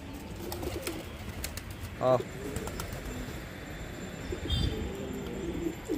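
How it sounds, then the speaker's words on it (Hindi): Pigeons coo near their coop as they settle inside, one clear throaty coo standing out amid soft rustling and background sounds while someone talks nearby. "अपने ये 2 कबूतर तो अंदर जा चुके हैं"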